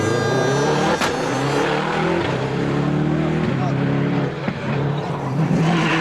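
A Ford Focus rally car with an ailing engine at a nighttime stage of the Monte Carlo Rally runs with a rough, labouring drone and wavering revs. Someone talks over it from start to finish.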